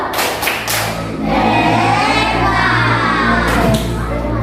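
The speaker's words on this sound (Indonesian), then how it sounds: "Kita tepuk jempol." A group claps thumbs together in unison in an indoor classroom-style session, giving a loud, dense patter of many small thuds that carries through the clip, with voices calling out over it.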